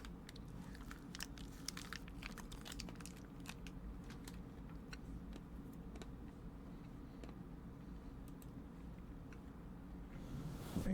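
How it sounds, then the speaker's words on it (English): Someone bites and chews a crunchy almond granola bar up close, with sharp, repeated crunches over a low, steady background hum. "It's a granola bar. It's only crunchy because it has almonds in it."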